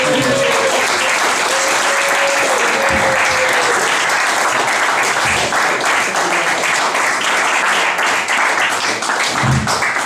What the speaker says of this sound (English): Big round of applause for Trevor there